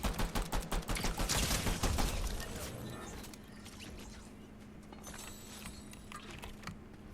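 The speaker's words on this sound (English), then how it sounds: "Someone's shooting at me." Rapid bursts of in-game gunfire rattle in Fortnite, a quick run of repeated shots for about two seconds before fading into quieter background game sounds.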